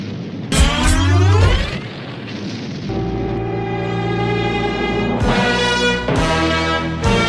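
A sci-fi fusion cannon blast rings out as a loud booming discharge with a rising whine, followed by a long sustained humming energy drone and further crackling bursts near the end.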